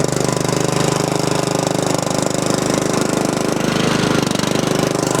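A remote-controlled lawn mower engine runs loud and close with a steady rapid chugging drone while the mower works over rocky ground.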